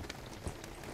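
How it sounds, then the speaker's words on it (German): Rain falls outside in a video game, a soft, steady patter heard faintly and alone. "Oh, es regnet draußen."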